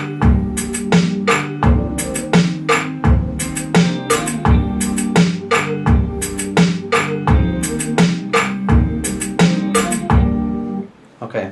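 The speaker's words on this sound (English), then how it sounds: "so that's the beat I have" Beat programmed in Beatmaker 2 on an iPad, with a loud, punchy repeating drum pattern of regular kicks and snares over a sustained tonal layer, fading at the end, with no talk.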